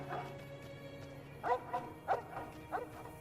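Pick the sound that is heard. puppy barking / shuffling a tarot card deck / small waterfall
puppy barking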